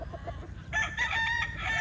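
A gamefowl rooster crows loudly and close on a Philippine farm, a single drawn-out crow after some softer clucking and farm noise.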